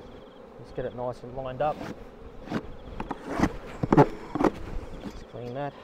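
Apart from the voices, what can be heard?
honey bees buzzing around an open hive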